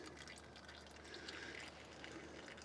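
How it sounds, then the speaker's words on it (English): Gearbox oil pouring steadily out of the drained gearbox of an R56 Mini Cooper S during engine removal, a faint continuous liquid trickle and splash with no voices. "that's pretty much draining out like the entire contents of the gearbox"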